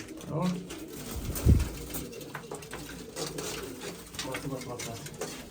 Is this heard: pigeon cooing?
yes